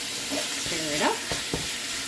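Pad thai sauce of chicken base and oyster sauce being stirred in a hot pan, a soft steady sizzle with a few utensil scrapes, close and moderate with no talking.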